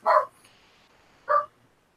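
Charlie the dog barks at a person arriving home: two loud, close barks about a second apart, with quiet in between.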